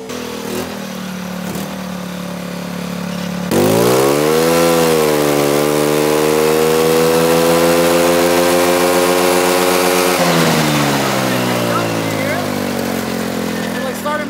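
Moped-engined Honda Civic with a turbo, its small engine revving up loudly with a rising, buzzing harmonic drone that holds high for several seconds and then drops back, with talk around it.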